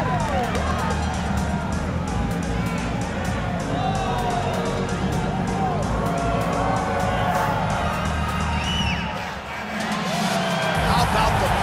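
A packed arena crowd in the UFC 5 fighting game roars and murmurs steadily, with cheers and whoops swelling under a commentator's voice.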